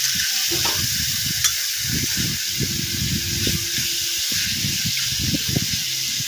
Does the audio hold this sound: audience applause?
no